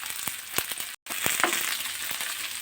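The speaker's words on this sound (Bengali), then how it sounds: "খুন্তি দিয়ে পেঁয়াজগুলো একটু হালকা হাতে একটু বাদামি করে ভেজে নেব।" Onions frying in oil in a pan for spicy brinjal curry, stirred with a spatula: steady close sizzle with several sharp scraping clinks and a brief dropout partway through.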